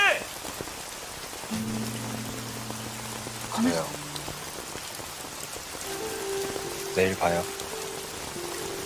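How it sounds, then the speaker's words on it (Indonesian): Heavy rain pours steadily on surfaces throughout, with short spoken exchanges and sustained musical tones layered over the downpour. "hujan pun turun dengan deras"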